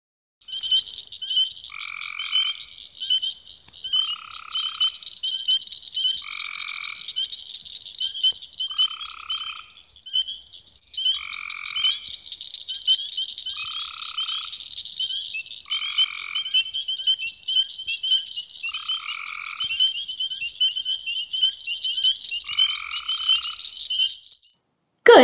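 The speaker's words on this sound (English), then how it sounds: "The click click of the Eastern Cricket Frog, the peep of the spring peeper and the gargly sound of the copse gray tree frog." A nighttime chorus of Eastern cricket frogs, spring peepers and Cope's gray tree frogs: a steady high trilling runs throughout while repeated two-note calls sound every couple of seconds, clear and with no voices.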